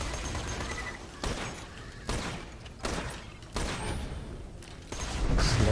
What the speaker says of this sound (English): These outlaw marauders shoot from a long distance with their shotguns.